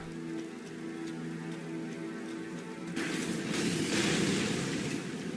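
Heavy rain weather in the video game Elden Ring, a steady hiss of rainfall under a faint low musical drone, swelling louder and denser for the last few seconds.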